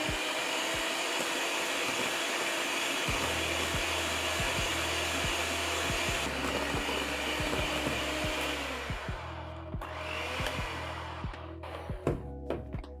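Electric hand mixer beating butter at high speed for a vanilla cake, a steady loud whirring drone that runs for about nine seconds before winding down into uneven rattling and clatter near the end.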